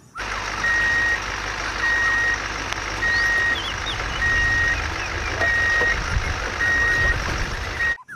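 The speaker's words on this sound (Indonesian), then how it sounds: "Wow, mobil derek teman-teman." Tow truck backing up, its reversing alarm sounding a steady series of about seven evenly spaced beeps over a constant engine idle, fairly close and clear with no talking.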